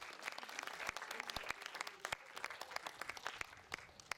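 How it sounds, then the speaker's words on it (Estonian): A crowd at a cyclists' rally in Otepää claps loudly and steadily, dense individual hand claps forming a continuous burst of applause with no talking over it. "siis võib kõvemini plaksutada"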